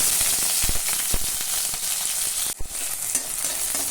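Onions sautéing in a pan for fried rice crackle and sizzle loudly and continuously up close, broken by repeated spatula scrapes and stirring knocks.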